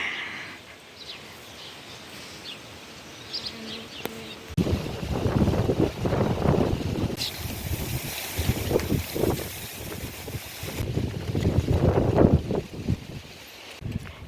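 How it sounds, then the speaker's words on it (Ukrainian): Strong wind sweeps through swaying cherry tree branches outdoors in a garden, coming in loud rushing gusts that rise and fall, with heavy buffeting on the microphone. "А воно такий вітер розібрався. Он як гойдоє деревину гілки."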